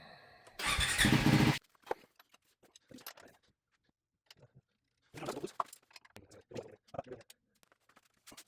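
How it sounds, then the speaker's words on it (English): A Triumph 400XC motorcycle engine catches with a short, loud roar lasting about a second, then drops away to near silence broken by faint clicks and small handling noises. "I need to run the engine for about 30 seconds"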